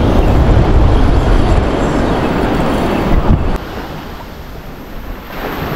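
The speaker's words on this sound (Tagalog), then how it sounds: "Medyo malakas ngayon, mahangin. Makachamba ng alon." Strong wind buffets the microphone over loud, rolling ocean surf on the shore, a dense roar that eases somewhat partway through, with no talk.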